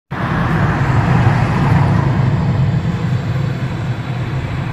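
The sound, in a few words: vehicle engine running while misbehaving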